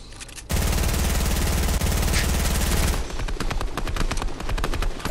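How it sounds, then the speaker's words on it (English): Rapid automatic gunfire in Fortnite aimed at a wall, a dense, loud stream of shots for a couple of seconds followed by a slower run of distinct repeated bursts and impacts. "I'm trying to shoot out the wall."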